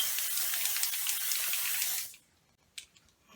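Makeup setting spray misted from a bottle, a continuous close hiss for about two seconds that cuts off sharply, followed by a faint short spritz.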